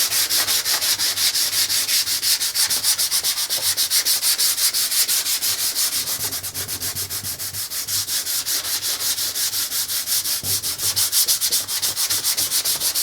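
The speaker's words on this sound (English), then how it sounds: "When you're sanding wood, always try and sand with the grain." Close, steady hand sanding on a wooden countertop, with the grain, with quick even back-and-forth strokes that keep a constant rasping rhythm throughout.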